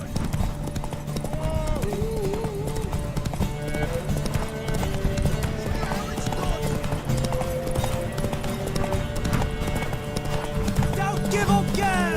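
Galloping horse hooves clatter in a steady, rapid clip-clop during a horse race in The Witcher 3, with a possible brief whinny, layered under game music and shouting voices throughout.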